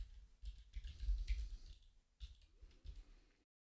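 Quick keystrokes on a computer keyboard tap out entries into date fields of timeline software, a short close burst of soft clicks that trails off into silence.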